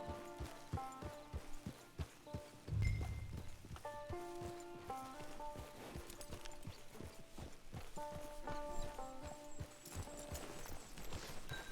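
Horse hooves clip-clopping in Red Dead Online, a steady rhythmic trot of repeated hoof beats running under constant game music, with a brief low thump near the start.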